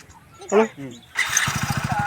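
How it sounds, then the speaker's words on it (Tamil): A voice speaks briefly, then a motorcycle engine catches and runs close by with rapid, even firing pulses. "வண்டி ஸ்டார்ட் பண்ண"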